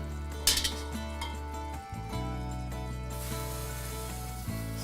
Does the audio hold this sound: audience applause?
no